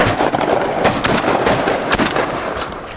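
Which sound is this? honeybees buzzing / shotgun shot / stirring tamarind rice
shotgun shot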